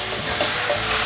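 Enoki mushrooms and yellow bell pepper are stir-fried fast in a wok, making a loud, dense, continuous sizzle for about a second with no voices.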